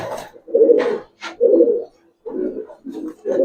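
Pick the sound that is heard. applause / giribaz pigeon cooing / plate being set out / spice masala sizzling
giribaz pigeon cooing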